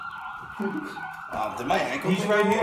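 An ambulance siren wails outside, a steady tone that rises and wavers as it passes, while people indoors talk and laugh over it.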